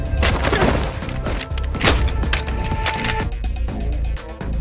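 A gunshot in a Korean action drama about a young female assassin, Final Weapon Alice. A sharp crack lands among a busy mix of thuds, crashes and dramatic scoring, loud and close, with no speech.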